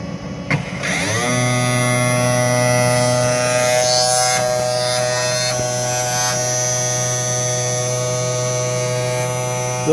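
A Sparx skate sharpener works on the stainless blades of CCM 762 youth hockey skates, starting up with a rising whine that settles into a loud, steady tonal electric hum with occasional scraping texture, heard close and alone.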